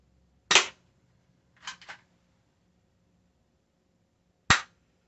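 A cheap UKARMS P618SB airsoft pistol fires three sharp snapping shots at a target, the middle one softer with a double click, spaced irregularly against a quiet background.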